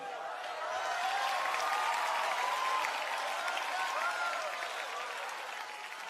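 A church congregation claps in a sustained, dense burst of applause, steady throughout at moderate distance, with a voice carrying faintly over the clapping.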